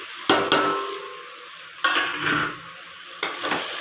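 Mushrooms frying in a pan for biryani, a continuous close sizzle broken by three sharp scraping stirs of a spoon against the pan, no talking.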